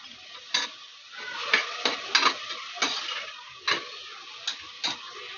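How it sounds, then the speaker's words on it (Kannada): Onions fry in butter with salt for butter chicken, a quiet sizzle under a series of sharp, irregular spoon clacks and scrapes against the pan, about a dozen hits spread through. "ಈಗ ಸ್ವಲ್ಪ ಫ್ರೈ ಆಗಲಿ ಅದು."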